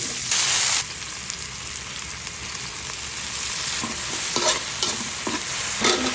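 Vegetables for pinakbet, including eggplant and bitter melon, sizzling and being stirred in a hot pan, with a steady frying hiss and a few louder scraping bursts, close and alone.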